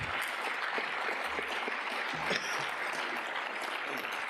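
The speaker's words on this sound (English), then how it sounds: "let's give our speakers a final round of applause" An audience claps steadily in a continuous, moderately loud round of applause, with no voices over it.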